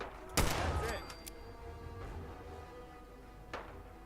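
Gunfire in Fallout 4 while aiming for headshots: a loud sharp shot near the start, then fainter reports later over low game ambience, with no talking.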